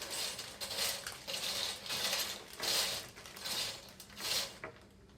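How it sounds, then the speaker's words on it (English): Ingredients stirred together in a bowl for a kids' harvest hash snack, giving repeated scraping, clattering strokes in an uneven rhythm, close and fairly loud, with no talking. "stir that in there"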